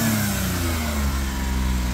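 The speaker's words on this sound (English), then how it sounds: "That's the sound of a healthy motor." A low-mileage Suzuki Carry kei truck with a healthy motor idles steadily close by, giving a smooth, even hum with a low throb and no other sounds.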